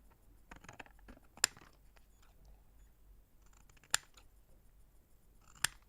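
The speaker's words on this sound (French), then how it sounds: "vous avez juste à découper le petit carré" Scissors snip through paper to cut out a small square, giving a few quiet rustles and three sharp, isolated snips spaced a couple of seconds apart in a calm indoor setting.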